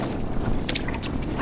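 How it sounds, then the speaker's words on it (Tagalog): Strong gusty wind rushes by the water, buffeting the microphone in a broad, steady roar with a few brief higher rustles and a sharper gust at the end. "Ang lakas ng hangin!"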